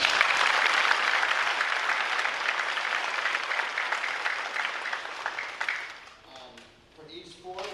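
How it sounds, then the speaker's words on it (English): A school promotion crowd applauds school sports championships with loud, sustained clapping. The clapping fades out near the end as a voice begins speaking. "So real quickly, a round of applause for that."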